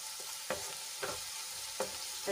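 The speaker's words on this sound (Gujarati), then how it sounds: "બધા મસાલાને આપણે એક મિનિટ માટે સાંતળી લઈશું જેથી કરીને મસાલા સરસ રીતે સંતળાઈ જાય" Spices sautéing in a pan for a gravy, with a quiet steady sizzle broken by three or four short scraping stirs of a spoon, close and without speech.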